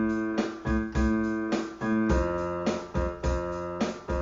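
Pop-rock piano cycles a left-hand dotted quarter-eighth rhythm through a chord progression over a simple steady drum groove, with clear, evenly repeating accented chords.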